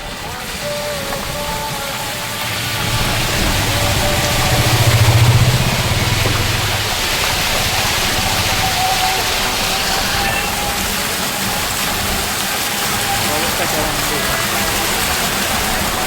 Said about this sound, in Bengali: এই দেখুন গাইস বৃষ্টি, গাইস এই দেখুন বৃষ্টি।